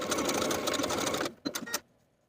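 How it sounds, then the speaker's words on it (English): A sewing machine zigzag stitches back and forth over the overlapped short ends of elastic for a raglan sleeve top, running in a steady close whir for over a second, then a few short bursts before stopping. "Now I can overlap those two short ends of the elastic and zigzag back and forth to secure."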